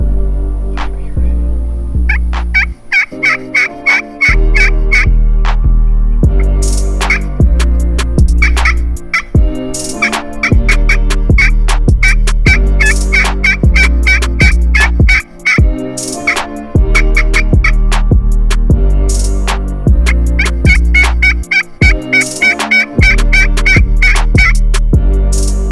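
A wild long-bearded turkey, drawn in with a Conviction game call in Alabama, gobbles in loud, close, rattling bursts repeated many times over about twenty-five seconds with no talk.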